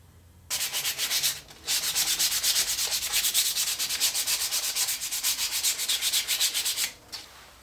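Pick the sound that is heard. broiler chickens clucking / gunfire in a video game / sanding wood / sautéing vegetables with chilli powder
sanding wood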